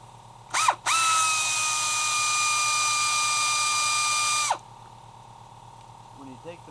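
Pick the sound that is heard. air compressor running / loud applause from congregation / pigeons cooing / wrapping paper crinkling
air compressor running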